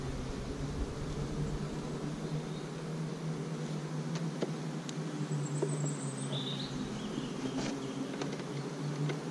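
Honeybees buzz in a dense, steady drone during a beehive inspection, close and continuous for the whole stretch, with faint handling clicks and no talking.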